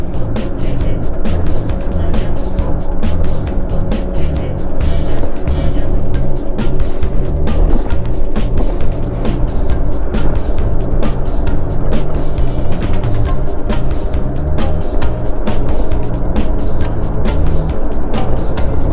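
A car drives down a long hill into the wind on a cold day at McGee Creek State Park, its steady engine and road rumble mixed with buffeting wind noise, continuous and close throughout.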